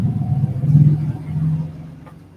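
A low engine rumble swells as a motorcycle passes nearby, then fades into the distance.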